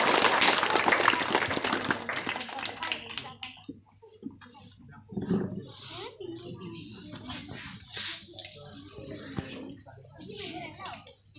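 Applause from the audience at an annual school cultural and sports function in Kateribhatta, strongest and densest at the start, then thinning into scattered clapping with a person speaking over the hall.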